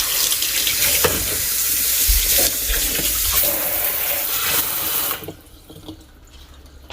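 Dishes are washed at a sink under a running tap. Water gushes and splashes steadily for several seconds with light clatter, then the flow stops, leaving only faint drips and quiet.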